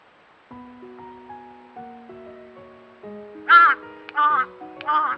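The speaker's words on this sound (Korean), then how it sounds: "불청개 까마귀가 부리로 멧돼지의 엉덩이를 쿡쿡 쪼아대며 단잠을 깨운다" A crow caws three times in loud, harsh bursts while pecking at a sleeping wild boar, the calls rising over a steady low hum and scattered tonal sounds.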